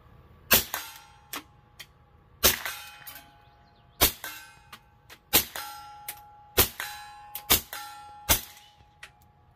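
A suppressed .22 rifle fires at a steel target 50 yards away on a hillside. About eight sharp pops come at an irregular pace, each followed by a ringing metallic clang from the plate.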